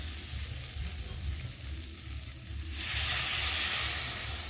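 A loud, steady sizzle bursts up partway through as water hits frying masala for elephant foot yam and prawn curry, hissing continuously after a quieter stretch of frying.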